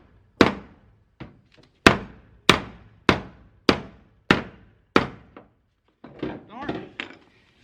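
A hammer strikes a dent in a van's metal body about nine times, each a sharp, close, ringing knock at a fairly steady rhythm, followed by a few softer, scattered clanks.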